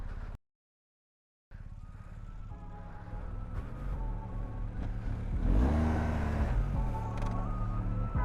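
A BMW R1250GS motorcycle engine runs and revs after a brief silence, its hum rising and swelling louder toward the middle before settling into a steady drone.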